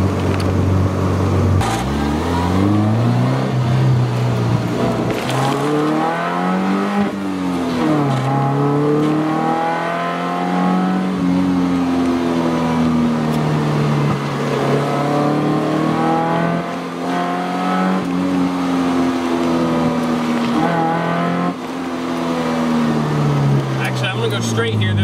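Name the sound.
car engine revving while driving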